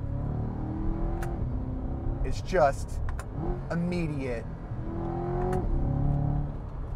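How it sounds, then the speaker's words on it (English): A 2023 Chevrolet Corvette convertible's engine drones and rises through gears with a dual-clutch transmission, heard from inside the cabin under someone talking. "Engine sounds great back there. I'm loving the sound of that engine."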